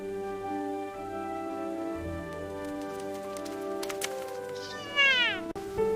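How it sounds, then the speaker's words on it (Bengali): A domestic cat meows in a clear, close voice, its calls rising and falling over a steady musical backing, with a sharper, louder meow near the end. "এটা হলো ক্যাট। ক্যাট মানে বিড়াল।"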